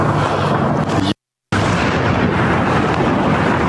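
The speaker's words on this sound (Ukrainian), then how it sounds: "Там палало, вибухало і греміло." Loud, roaring explosions from a drone strike and heavy rumbling fill the air, broken by a brief moment of silence before the thunderous blasts continue.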